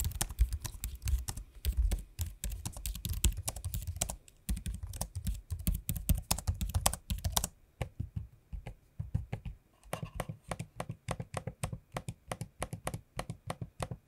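Rapid, close typing on an Asus ROG Strix Scar 17 (2023) laptop keyboard with a brief pause, then sharper separate clicks of its trackpad tapped in a steady rhythm.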